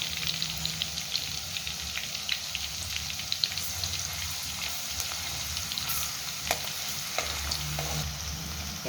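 Spring onions and garlic frying in hot oil for chilli paneer: a continuous bright sizzle with scattered crackles and pops and occasional stirring scrapes, close and steady throughout.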